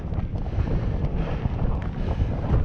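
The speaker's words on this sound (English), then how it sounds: "Pretty windy too." Strong wind roars steadily on the Beinn Ghlas mountain summit, buffeting the microphone with a constant low rumble and no pauses.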